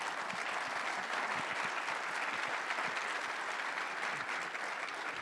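Steady, dense applause from a conference audience, sustained and even throughout with no voices standing out.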